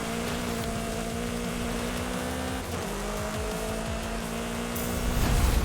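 Racing car in Forza Horizon 5 drives with a continuous steady engine drone, shifting pitch mid-way and swelling louder near the end, loud and alone without talk.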